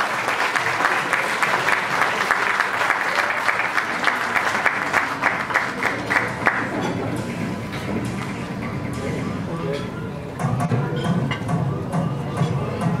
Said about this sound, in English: let us give a round of applause to Ms. Jenica Ferrer of Graduate Limited Team